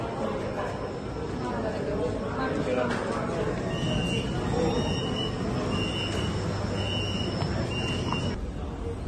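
Metro train running, with a steady loud rumble throughout, faint squealing whistle tones over it, and people chattering nearby.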